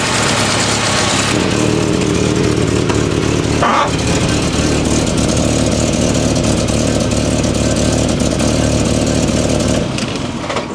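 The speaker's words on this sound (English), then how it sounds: "Engine is running well. Pretty impressed with how it's running." A classic car engine idles steadily and loudly at close range, holding an even running tone throughout with a brief sharper blip partway through.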